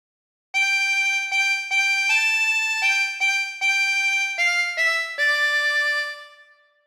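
A harmonica plays a phrase of Waltzing Matilda, about ten separate blown and drawn notes in a steady melodic rhythm, bright and close, the final note trailing off, with no speech.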